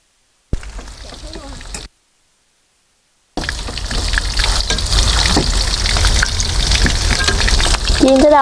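Minced meat sizzles and crackles steadily in a hot pan, close and loud, after a short burst of sizzling and a silent gap; voices chat briefly.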